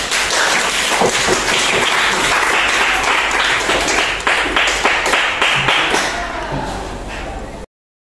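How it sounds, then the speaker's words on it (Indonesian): A classroom of high school students gives group 1 a round of applause: dense, lively clapping that holds steady for several seconds, then thins into scattered claps and tails off, with a few voices mixed in. "silakan berikan aplaus untuk kelompok 1"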